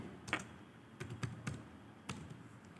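Light, scattered keystrokes on a computer keyboard as a name is typed, a handful of soft taps at uneven intervals, quiet and close.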